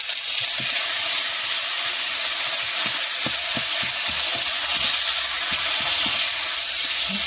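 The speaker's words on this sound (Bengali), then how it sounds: "ভালো করে এখন পুরো ভেজে নিতে হবে মশলাটাকে" Spice paste with turmeric and salt frying in a pan, a loud, steady hissing sizzle throughout, with a string of soft scraping stirs through the middle.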